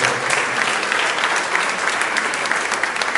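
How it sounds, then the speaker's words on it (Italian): Audience applause at a school conference on healthy eating in Siderno, a brief burst of dense, steady clapping from a crowd at moderate distance, with no speech. "Un applauso a tutti i direttori."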